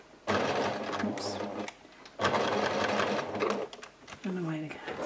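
A sewing machine runs in two bursts of rapid mechanical stitching while sewing a tea towel tote bag, with short pauses between runs and a brief spoken remark at the end over light handling noise.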